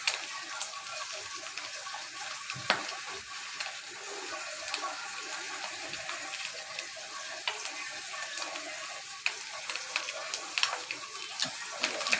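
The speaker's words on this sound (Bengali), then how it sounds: "চুলাটা কমিয়ে আস্তে আস্তে ভেজে নিচ্ছি" Food coated in turmeric and salt fries slowly in a pan over a low flame, a steady close hiss with scattered small crackles and ticks throughout, no talking.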